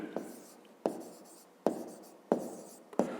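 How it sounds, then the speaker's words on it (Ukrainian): Pen or pencil writing out a grade 5 maths exercise on paper, a series of short scratching strokes each starting with a sharp tap, about five in a row, close and quiet. "Ну і записуємо тоді."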